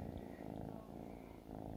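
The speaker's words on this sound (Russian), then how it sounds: "Ой, мурчит, слышите?" Domestic cat purring close by, a steady low rhythmic rumble with no voices over it.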